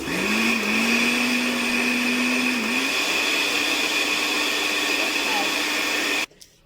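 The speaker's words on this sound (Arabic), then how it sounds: "هنا غادي نخلطو كنشوفوا صافي نخلطوها" Blender whirring steadily as it purees garlic sauce with milk for chicken shawarma, a loud continuous motor drone with a rising pitch sweep near the start, running for about six seconds before cutting off abruptly.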